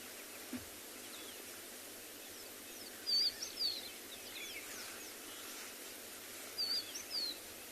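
Two short bird calls ring out a few seconds apart over a steady hiss of running water on a morning safari in South Africa, faint and somewhat distant.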